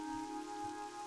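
Steady rain ambience in a video game zone, a continuous dense hiss of falling rain with a faint tonal hum underneath, even and unbroken throughout.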